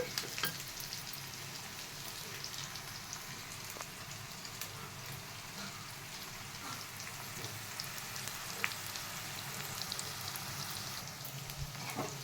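Ivy gourd and chillies frying in oil in an uncovered pan, a continuous close, rain-like sizzle with occasional crackles and faint stirring, no voices.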